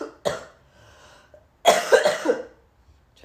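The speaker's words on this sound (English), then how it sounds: "Try to cut out these parts of me coughing so much." A person coughs in two bouts: one sharp single cough, then a louder cluster of several harsh coughs with a throat-clearing quality. Close and loud against near silence, with no talking.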